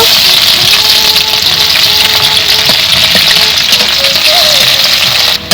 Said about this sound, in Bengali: পেঁয়াজ হালকা করে ভাজি করে নিয়েছি